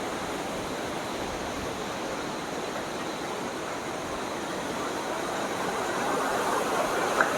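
Steady broadband rush of flowing water at a family park in Mansehra, a continuous even wash that swells slightly louder near the end, with no voices.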